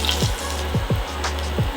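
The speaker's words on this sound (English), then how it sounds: "You can hear them sizzling." Taquitos dropped into hot frying oil, sizzling with a steady crackling hiss and a few sharp splashy bursts as pieces go in, close and fairly loud.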